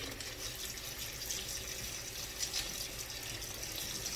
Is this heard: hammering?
no